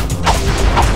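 A spaceship explodes in the Ratchet & Clank video game, heard as dense, loud booming blasts with rumbling low end in quick succession, no talk over it.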